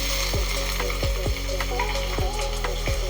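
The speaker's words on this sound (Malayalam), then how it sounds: "ഇതിലേക്ക് നമുക്കിനി ചതച്ച് വെച്ചിരിക്കുന്ന ഇഞ്ചി വെളുത്തുള്ളി ചേർത്ത് കൊടുക്കാം" Crushed ginger and garlic go into hot spices for a homestyle Kerala chicken curry and sizzle steadily, with several sharp knocks and scrapes from stirring.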